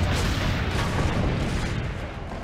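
A dense, rumbling roar of booming blasts from cannons in the video game Assassin's Creed Brotherhood, loud and sustained, like heavy cannon fire.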